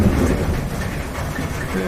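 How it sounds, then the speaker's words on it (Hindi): Heavy rain pours down steadily in a dense, continuous wash of broadband noise with a faint low rumble, no voices present. "तभी अचानक तेज बारिश होने लगी।"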